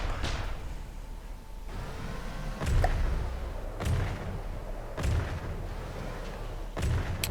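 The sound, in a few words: naval gunfire in video game From The Depths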